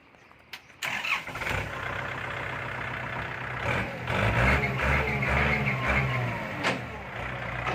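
A Kubota L3408 tractor diesel engine cranks and catches after a brief pause, then settles into a steady, close, loud idle with a rough low rumble and slight surges, no talking over it.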